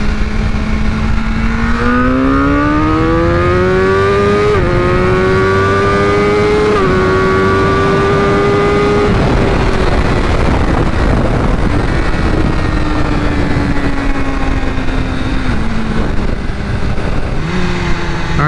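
A flash-tuned 2016 BMW S1000R motorcycle accelerates hard from 60 to 130 mph, its engine note climbing steadily with several quick gear shifts, loud and close, heavy wind roar throughout.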